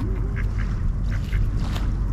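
Several nearby ducks on a lake swimming area at Lake Chelan State Park give a series of short quacks spaced across a couple of seconds, set against a quiet open-air backdrop.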